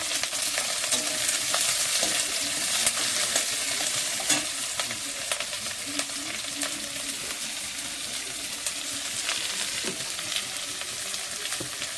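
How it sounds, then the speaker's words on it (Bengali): Chopped onion, garlic and green chili frying in oil in a home kitchen, giving a steady, dense sizzle with occasional stirring scrapes across the whole stretch, close and fairly loud, with no voices. "আর একটু তেল দিয়ে পেঁয়াজ কুচি, রসুন কুচি, কাঁচা লঙ্কা সব দিয়ে দেব।"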